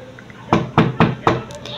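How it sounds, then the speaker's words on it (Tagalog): Knocking on a house door: four sharp, evenly spaced knocks, loud and close, with a quiet pause before them and faint trailing taps after. "Ang pinto ay ang konkretong bagay sa bahay na kinakatok natin."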